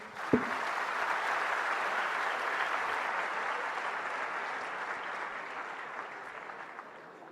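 Sustained applause from a student audience at a national conference session after a team performance, a steady, moderately distant wash of many clapping hands that swells briefly and then slowly fades.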